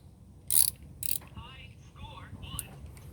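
A small ratchet with a 10 mm socket and extension working loose the throttle body bolts on a Toyota, giving a couple of loud, brief clicking bursts followed by softer intermittent mechanical ticks, close up with no talking.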